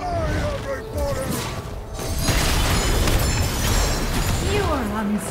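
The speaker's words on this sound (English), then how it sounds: "Enemy turret destroyed." Wild Rift match sound as an enemy turret is destroyed: a loud, dense game mix with booming crash bursts and descending tonal effects, a sustained din over about five seconds without clear speech.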